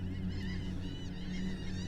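Several seagulls call over a steady low rumble of wind or an engine, their cries rising and falling in the background.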